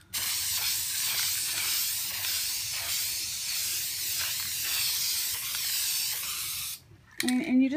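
Aerosol spray paint applied to PVC pipe curtain rods laid on an old board, a close, continuous hissing spray with small pulses in strength, cutting off near the end before a brief clatter.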